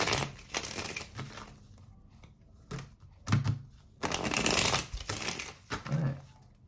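Tarot cards are shuffled by hand in several crisp bursts of riffling and flicking, close and moderately loud, separated by short quiet gaps.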